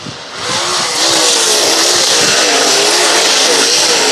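Super late model race cars thunder around an oval track, their engines roaring loudly and rising in pitch as the pack sweeps past close by, with a dense, continuous crowd of engine noise.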